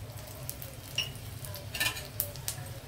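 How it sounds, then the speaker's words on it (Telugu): Mustard seeds with cumin crackle and sizzle in hot ghee with garlic, a steady close frying hiss broken by sharp pops and a brief stirring scrape, with no voices. "ఆవాలు వేస్తున్నాను."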